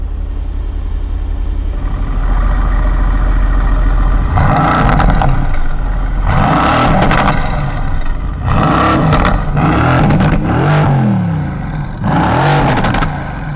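A Mercedes-AMG GT S in Sport Plus mode on a race track gives loud, close engine revs in repeated surges. Each rev rises and falls over a steady rumble, with no talking.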